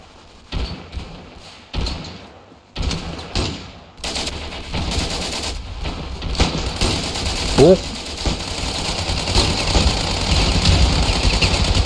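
Sniper rifle fire at a castle in the World War One-themed video game Ravenfield: a few separate heavy shots and thumps at first, then a continuous roar of battle and distant gunfire swelling louder.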